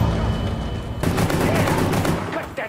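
Mafia 3 gun battle with loud bursts of gunfire starting after a steady background rumble and continuing densely, mixed with explosive noise and indistinct shouting.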